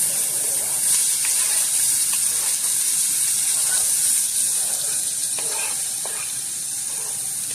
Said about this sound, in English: Instantly smells good in the house as soon as onions and garlic hit the pan.